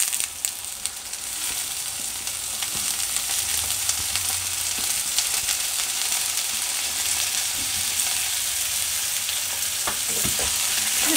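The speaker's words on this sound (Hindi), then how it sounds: "ये साथ साथ भून लेंगे।" Green onion and shredded cabbage stir-fry in hot oil for cauliflower Manchurian, a steady close sizzle with occasional scraping and stirring clatter throughout.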